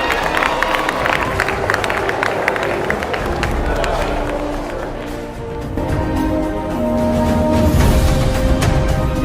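Sustained applause from a sixth form school audience, a dense wash of many hands clapping steadily throughout with crowd murmur and some cheering mixed in, dipping briefly midway before swelling again.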